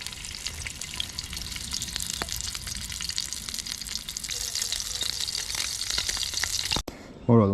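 Perch fillet frying in oil, a close, continuous crackling sizzle with scattered pops that stops abruptly near the end before a short low thump.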